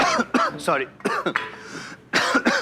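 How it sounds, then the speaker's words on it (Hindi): A man in a courtroom coughs and clears his throat in several rough bursts, close and fairly loud, with brief voice sounds in between. "ये आप भौंक क्यों रहे हैं, खांस क्यों रहे हैं"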